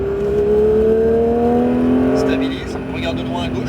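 A Porsche 911 GT3 on a race circuit holds a steady, loud engine note that climbs gradually in pitch and then eases off, with an instructor's voice talking over it.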